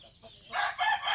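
A rooster crows loudly and close by in a brief burst, with chicken calls mixed in.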